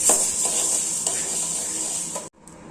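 Wheat and rice grains dry-roasting together in a pan, a continuous bright rustling hiss with faint scraping of a stirring spoon every half second or so, steady and close, cut off abruptly near the end.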